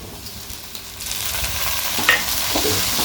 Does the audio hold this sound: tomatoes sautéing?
yes